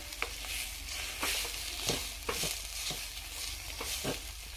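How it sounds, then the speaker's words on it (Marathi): Chickpea greens with chopped coriander sautéed in a pan, a soft steady sizzle broken by repeated scraping stirs of a spatula at irregular intervals. "बारीक चिरलेली कोथिंबीर घालायची आहे आणि थोडा वेळ भाजी परतून घ्यायची आहे।"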